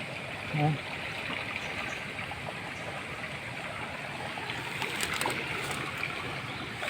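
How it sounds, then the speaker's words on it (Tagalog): A strong river in flood, swollen after heavy rain, rushes past in a steady broadband roar. The water sounds close and continuous, with a brief voice near the start. "Lakas ng agos mga kaispiro."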